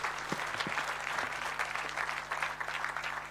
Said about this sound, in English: Ladies and gentlemen, can we give our award recipients a round of applause?